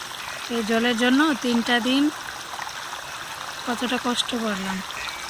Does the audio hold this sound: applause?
no